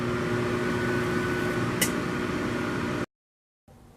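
A steady mechanical hum of a running voice-controlled smart microwave oven, close by, with a brief click midway, cutting abruptly to silence near the end.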